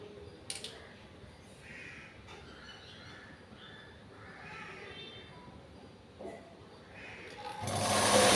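A hand-operated sewing machine stitches cloth with a soft, steady whirring and ticking. Crows caw in the background, and the sound swells into a louder rush at the very end.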